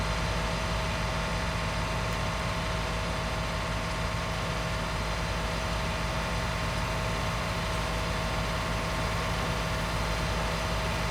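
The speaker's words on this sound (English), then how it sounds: "Get you some nice views of that tractor working in the field." A tractor engine works in a field in Farming Simulator 19, a steady, even drone with a constant hum that runs unchanged throughout and has no talk.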